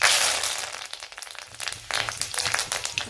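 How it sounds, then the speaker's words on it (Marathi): Curry leaves hit hot oil with mustard seeds in a kadhai, a sudden loud hiss that fades, then renewed close, uneven crackling and spitting. "आपण आता लगेच कढीपत्ता टाकू।"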